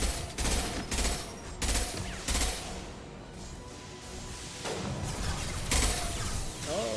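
Gunfire crackles in bursts during a firefight in the video game Mass Effect 2, loud and close over a dense background of battle noise and music.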